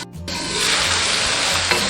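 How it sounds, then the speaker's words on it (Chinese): Rice wine drizzled along the edge of a hot wok over star anise, bay leaves, cinnamon and dried chilies hits with a sudden loud, steady sizzle that hisses on for nearly two seconds, close up. "沿着锅边淋一些米酒，盖上盖子焖30秒"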